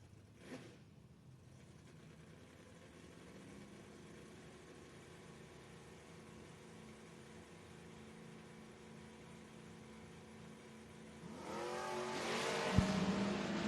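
A Chevrolet Camaro drag race car at a footbrake drag racing event: a low distant engine drone for most of the time, then a sudden loud surge of revving and acceleration near the end.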